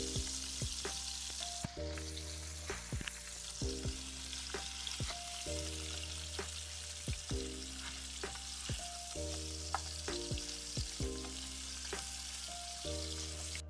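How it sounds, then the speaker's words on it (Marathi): Tomatoes frying in oil in a pan for a chicken and pea kheema, a steady hissing sizzle with occasional stirring scrapes and no voices over the top. "आपण तेलामध्ये टोमॅटो अगदी रंग बदलेपर्यंत सॉफ्ट होईपर्यंत भाजून घेऊ"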